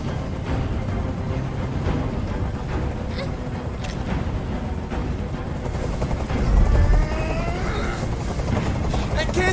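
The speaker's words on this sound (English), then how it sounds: "Tell that helicopter to get out of here!" A helicopter hovers overhead in the Detroit: Become Human video game, a loud continuous rotor thrum and engine drone dominating the scene, with a brief surge midway and other game sounds underneath.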